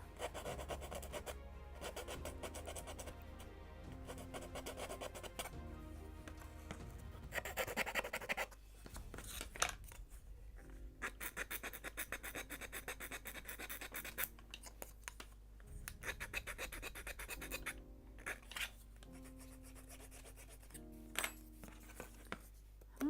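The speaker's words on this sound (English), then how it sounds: "I need to sand maybe a little more somewhere here." Hand sanding on the wooden skeleton of a 1:76 scale Mayflower (1620) kit model ship, with faint, intermittent scratchy rubbing strokes in irregular bursts, quiet and close.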